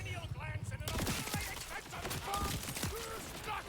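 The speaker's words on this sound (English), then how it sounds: "this is a level 12 shotgun, it's still one shot" A level 12 shotgun fires in Borderlands 4, with a rapid string of sharp gunshot cracks over busy game noise and someone talking throughout.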